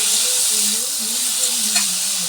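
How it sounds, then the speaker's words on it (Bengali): Boiled banana flower is stirred in a frying pan, giving a continuous bright sizzle and hiss with a low wavering hum underneath and a faint scrape near the end, steady and close. "মোচা সিদ্ধ দিয়ে দিয়েছে মোচাটাকে এবার নাড়বে"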